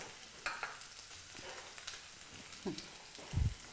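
Onions frying in a pan for radish gojju, a faint soft sizzle with a few louder stirring scrapes and knocks of a spatula against the pan.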